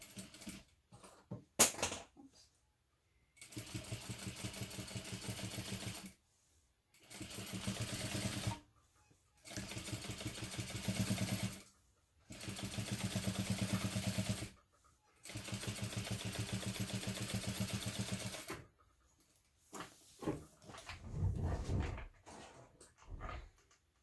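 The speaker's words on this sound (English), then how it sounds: "And then we'll top stitch the other side, again just through the side panel and seam allowance" A sewing machine top-stitches the side panel and seam allowance of a hobo bag in several steady runs of a few seconds each. The rapid mechanical whirring is separated by brief pauses, and the recording is fairly quiet.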